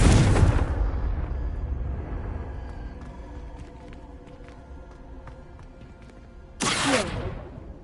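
Confringo explosion spell blasting in Hogwarts Legacy, a loud burst at the start that rumbles away, with scattered game clatter and a second sharp blast near the end.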